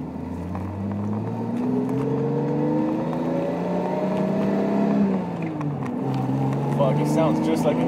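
A Toyota Supra with a swapped 2JZ turbo engine accelerates hard from inside the car, its loud, steady engine note rising through the gears with a brief dip at a shift, and nobody talking over it.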